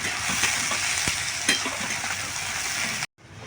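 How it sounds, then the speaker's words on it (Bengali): Onions frying lightly in a pan for an egg and masoor dal khichuri give off a steady, close sizzle with a couple of stirring scrapes, then cut off abruptly near the end. "পেঁয়াজটাকে আমি হালকা ভেজে নেবো।"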